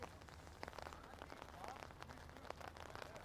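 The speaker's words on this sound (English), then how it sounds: "the rain's still coming down here" Rain falling steadily across an outdoor football pitch during a match, a constant soft hiss of drops with no voices, heard at a moderate distance.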